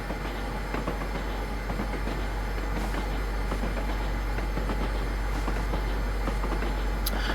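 Amtrak P42DC locomotive running in Train Simulator on the Feather River Canyon route, giving a steady, dense rumble with rolling wheel noise and faint rhythmic clatter throughout.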